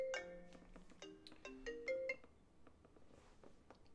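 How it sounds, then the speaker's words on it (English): A phone ringtone sounds during a Super Mario Maker 2 session: a short melodic run of bright electronic tones, some repeated, fairly faint, that trails off into quiet. "should I take a phone call in the middle of this?"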